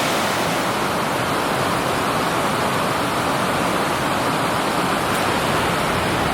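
Water cascades over rocks in the Niagara Falls area, a loud, steady broadband roar filling the air with no letup, heard close and alone.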